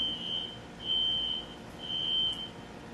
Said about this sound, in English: I hear the fire alarm going off.